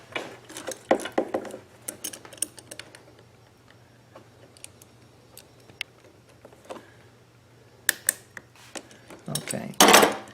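Hose clamp being tightened on an inverter generator's extended run fuel kit: sparse metallic clicks and taps in irregular bursts, with a louder cluster of clatter near the end and no talking.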